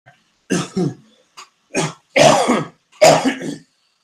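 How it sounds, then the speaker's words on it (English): Several close, raspy coughs and throat clearings come in short separate bursts with brief silences between them. "excuse my coughs"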